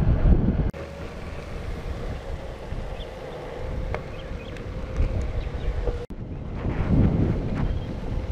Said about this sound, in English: A little bit windy right now.